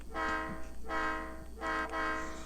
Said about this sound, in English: Now this is a Leslie RS3L Airhorn. So I'm going to apply the Airhorn with no echo and reverb.